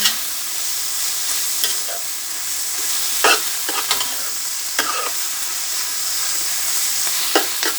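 A big heap of bush herbs fries for Bahamian dumpling soup, a constant close sizzle broken by scraping and clicking stirring strokes at irregular intervals; nobody speaks.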